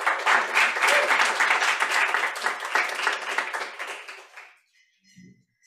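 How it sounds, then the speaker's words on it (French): Audience at a French-language biochemistry talk gives a hearty welcoming round of applause, dense clapping that fades out near the end before a brief voice begins. "j'espère que vous l'accueillerez avec un gros applaudissement"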